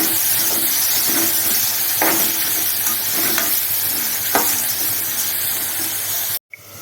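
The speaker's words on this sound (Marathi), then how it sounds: "बटाटे चांगले हलवून घ्यायचे" Potatoes with asafoetida and turmeric fry in a pan, a loud steady sizzle broken by repeated scraping stirs of a spatula, ending in a sudden brief cutoff.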